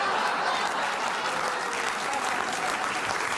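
An audience clapping during a live comedy show: a short, dense, sustained burst of applause at even loudness throughout.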